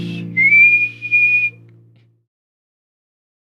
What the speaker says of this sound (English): Even for whistling, it's so high.